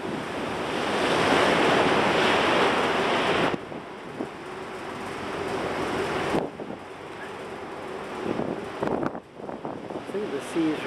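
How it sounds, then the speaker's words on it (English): Rushing sea waves and gusting wind roar against the microphone on a cruise ship deck, shifting in intensity, with muffled talk and knocks in the later part. "I think the sea is rather smoother than it was yesterday afternoon and evening."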